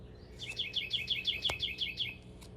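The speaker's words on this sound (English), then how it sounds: "bird, you're loud, man" A bird calls loudly outdoors with a quick run of about ten bright, repeated chirps at close range, followed by a single sharper note near the end, with no talking.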